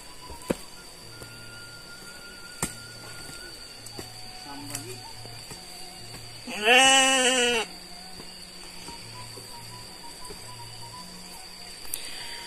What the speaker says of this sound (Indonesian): Jadi di sini ada kandang domba